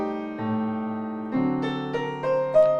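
Sustained chords from the bridge of a song sound with a few melodic notes on top, a soft low bass entering early, steady and clear with no voices.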